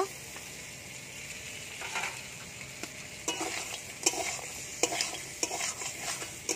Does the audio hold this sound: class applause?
no